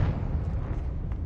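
Confringo fire spell blast in the Hogwarts Legacy video game, a loud, dense burst of rumbling explosive noise that fills the whole moment without letup.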